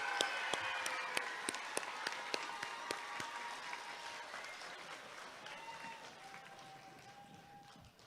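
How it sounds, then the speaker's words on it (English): An audience in a school setting applauds singers at an elementary school ribbon-cutting ceremony, with sharp individual claps over a dense, gradually fading wash of clapping and faint crowd murmur. "Can we give our singers another round of applause"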